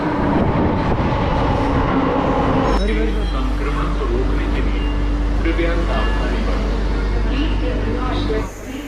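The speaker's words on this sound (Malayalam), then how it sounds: "ട്രെയിൻ വരുന്നുണ്ട്" A Delhi metro train rumbles into the station with a loud, steady low roar and rattling, while people talk nearby over the noise.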